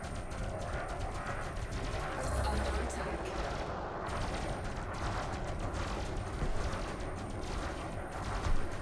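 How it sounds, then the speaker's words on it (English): Ship weapons in Elite Dangerous fire in steady rapid bursts during a space dogfight, a dense continuous rattle of shots at moderate level with occasional louder hits. "so we can shoot this guy down"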